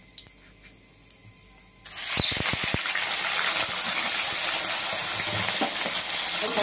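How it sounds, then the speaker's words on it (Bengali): A hilsa fish head coated in salt and turmeric hits hot oil, a quiet room suddenly bursting into a loud, sustained sizzle with a few sharp crackles at the start, then steady frying that carries on alone. "আমি এই মাছের মাথাটায় আর তেলটাতে একবারে নুন হলুদ মাখিয়ে নিয়ে একবারে দিয়ে দিচ্ছি আমি তেলের মধ্যে"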